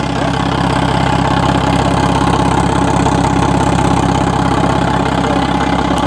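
A Nissan Z car engine idles loud and close, a constant rough rumble with a fast pulsing beat and a busy mechanical clatter running throughout, and no voices.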